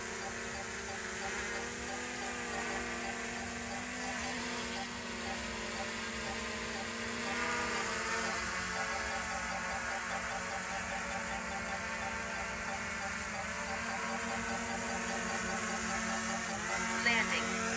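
A DJI Mini 3 Pro drone returns home and lands on a patio step, its propellers giving a steady high-pitched whine that stays close and fairly even throughout, with a slight swell midway.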